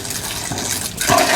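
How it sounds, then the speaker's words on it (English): Cooked tomatoes with separated skins being poured into a small sieve to strain out juice, a steady wet pouring and gushing of liquid that grows louder in the second half. "We're going to pour it in their little sieve."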